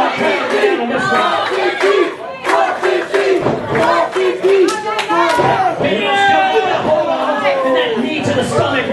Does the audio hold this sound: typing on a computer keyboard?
no